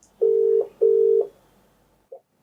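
A telephone line gives two long, steady electronic tone bursts, each about half a second, followed by a brief faint blip as a call is being placed; no voices are heard.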